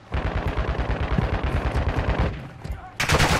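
Rapid bursts of automatic gunfire from enemy bots in the Call of Duty DMZ game, a steady rattling volley that runs nearly the whole time, with a sharper, louder burst near the end.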